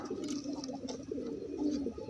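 A racing pigeon cooing, low throaty repeated coos in a soft rolling rhythm, close and continuous, with faint bird sounds around and no talking.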